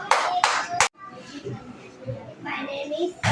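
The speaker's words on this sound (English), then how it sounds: "3 times clap." Three sharp hand claps in quick succession during a children's maths activity, loud and close, followed by a pause and then indistinct kids' chatter and movement in the room.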